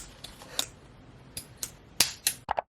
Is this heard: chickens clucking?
no